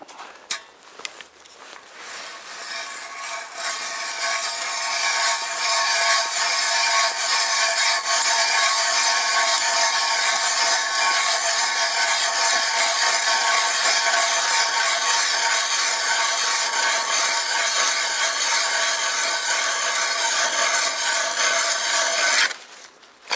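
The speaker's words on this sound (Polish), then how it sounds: "Nawiercimy jakąś dziurę," A hand ice auger bores a hole through lake ice during winter fishing, a steady rasping, grinding scrape that runs without pause for about twenty seconds before stopping abruptly.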